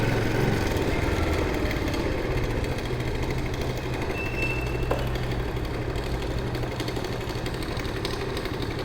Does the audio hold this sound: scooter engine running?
yes